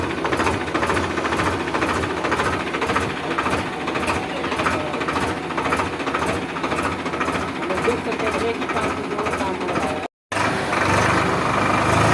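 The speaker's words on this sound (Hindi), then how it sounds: "कितना ही बेहतरीन आवाज़ है इस ट्रैक्टर का" A loud, steady Swaraj 735 tractor engine rumble with rapid mechanical knocking runs throughout, close and continuous, while someone talks over it; a brief cutout near the end.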